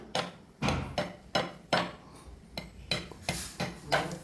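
Goat leg pieces being cut for soup, heard as a series of about ten sharp, close knocks and clacks of blade on bone and board in an uneven rhythm, with no talking.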